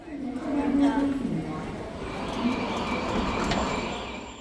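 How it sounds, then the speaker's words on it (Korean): An ITX-Cheongchun double-decker train departing from Yongsan station gives a steady rumble of rolling rail noise with some wheel squeal. A voice talks over it throughout. "오늘은 ITX 청춘열차를 탈 겁니다."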